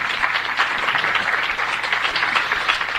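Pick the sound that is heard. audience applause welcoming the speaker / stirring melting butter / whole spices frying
audience applause welcoming the speaker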